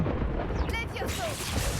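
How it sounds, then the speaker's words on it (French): A deep rumbling boom of thunder from a spell in the video game Hogwarts Legacy, broad and loud, rolling over continuous game noise. "Bam, tonnerre."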